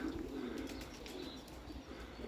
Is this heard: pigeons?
yes